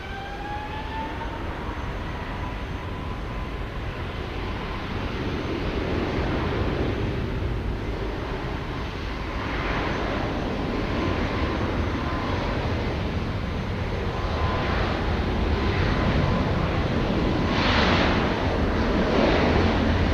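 A United heavy airliner takes off on runway 15 Left at Houston Intercontinental, its jet engines a broad, steady roar that builds gradually and grows louder toward the end.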